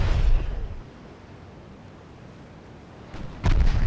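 A torpedo strikes a warship in a naval strategy game set in 1897, giving a heavy, low explosive boom at the start that fades into rumbling, then a second sharp burst near the end.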